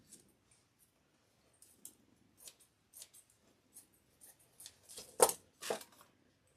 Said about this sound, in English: A snowball mesh, where I just cut a little, 2 little squares.